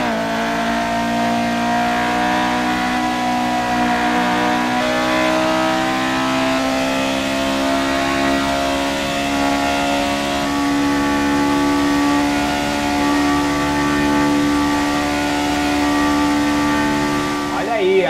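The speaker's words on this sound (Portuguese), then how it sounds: "Agora é a vez da McLaren de 76 do James Hunt" A 1976 McLaren F1 car in F1 2018 screams flat out at top speed, its engine note a loud, steady high-pitched drone with rising harmonics as it climbs through the gears.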